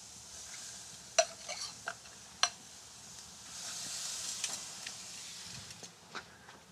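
Marinated meat, skin side down, sizzling on an outdoor grill for Latin American-style cooking, a faint steady hiss with a few sharp crackles and pops scattered through it.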